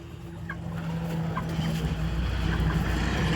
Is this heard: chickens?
yes